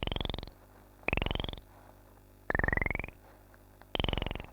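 Modular synthesizer drum voice with a mellow input setting, four pulsing buzzy hits about a second apart, each with a rising pitched tone on top, heard alone and up close.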